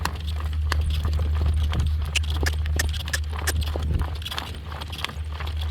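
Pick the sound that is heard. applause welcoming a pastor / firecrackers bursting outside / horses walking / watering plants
horses walking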